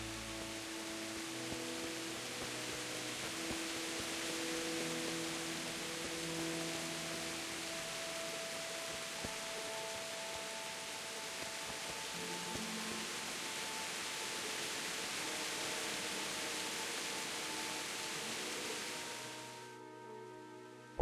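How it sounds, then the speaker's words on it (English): Steady broadband rain in the medieval role-playing game Kingdom Come, a continuous wash of falling water with faint game tones underneath, holding evenly before cutting off abruptly near the end. "The rain lets up."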